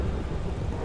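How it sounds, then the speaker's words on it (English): Rain falls in Last Days of Lazarus, a dense, steady wash of downpour with low rumbling beneath, brief and continuous without any voice. "It's cold and raining!"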